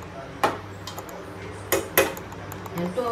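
Jaggery and ghee stirred in a cooking pot, with a few sharp metallic scrapes and clinks of the spoon against the pot over a low background hum.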